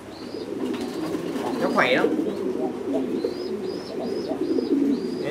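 Thai Titan pigeons coo on a pigeon farm, repeated soft low throaty coos close by, with chirps and a brief higher call, while someone speaks over them.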